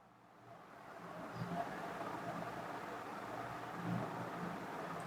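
Vehicles stuck on a landslide-hit mountain road strain their engines in a steady low drone, with a couple of louder rumbling swells and no talk.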